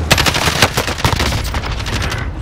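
Rapid bursts of automatic gunfire from a video game fill the moment, loud and close, a dense rattling stream of shots with brief uneven gaps.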